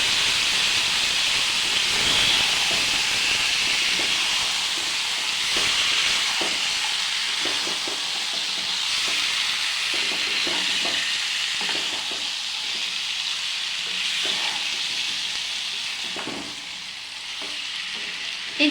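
Marinated chicken being dry-sautéed for Bengali kosha hisses and sizzles steadily in a pan, with repeated scraping and clacking of the spatula as it is stirred, and no one speaks.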